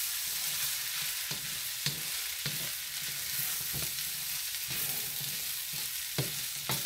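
Chicken fried rice sizzles steadily in a pan as soy sauce goes in, a continuous frying hiss broken by a few sharp stir or spatula knocks, close and even in loudness with no voices.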